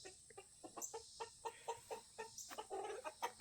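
Chickens in farm pens cluck in short, repeated bursts, a steady patter of close, moderately loud calls with faint bird noise in the background.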